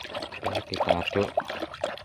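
A liquid pesticide mix for chili plants is stirred in a container, giving short close sloshing and trickling splashes in quick bursts.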